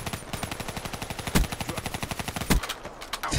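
Rapid automatic gunfire in Call of Duty: Black Ops III, a fast, even burst of loud close shots with a couple of heavier booms mixed in, continuing almost without pause.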